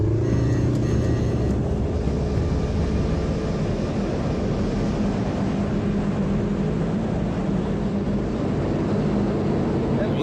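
Quad bikes driving a rocky desert route near Lake Mead, a steady loud engine drone with rumbling low-end noise running throughout, continuous and close.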